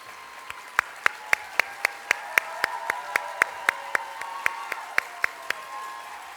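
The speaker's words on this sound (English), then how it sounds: "Let's give it one more round of applause." Sparse, slow clapping at a teacher of the year award gala, about twenty sharp, evenly spaced claps that ring out close by over a quiet room with a faint background murmur.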